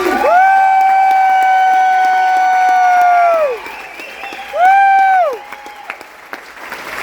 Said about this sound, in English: Let's give a round of applause for Joe Bob and Darcy.